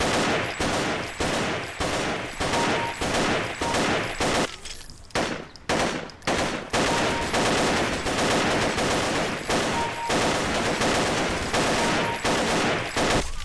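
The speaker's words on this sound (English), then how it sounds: "It's an AK." An AK rifle fired at an indoor firing range in the Paranoia video game: loud, rapid automatic bursts with a brief pause midway, then steady rhythmic shots continuing, no talking.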